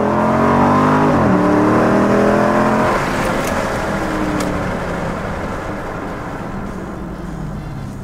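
A Dodge Challenger with an eight-speed automatic does a burnout, its engine revving hard and loud near the listener, the pitch swooping once before settling into a sustained roaring rumble that slowly fades.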